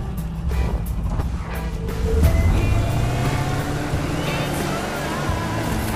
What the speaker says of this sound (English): Oh yeah, hear that engine roar!